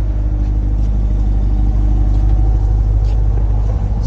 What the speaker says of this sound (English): The car's running.